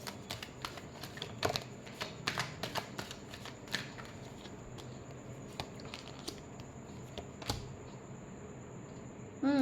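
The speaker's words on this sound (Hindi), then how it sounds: "last shuffle," Tarot cards are shuffled close by in a quiet room, with repeated quick riffling flicks and soft slaps at an irregular rhythm, ending in a slightly louder burst.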